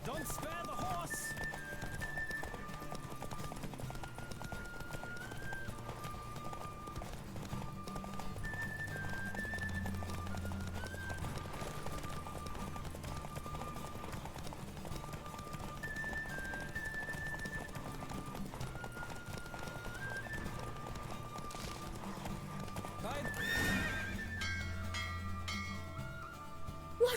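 Horse hooves galloping through a race in The Witcher 3, steady rhythmic beats under a musical score, with a brief louder swell near the end.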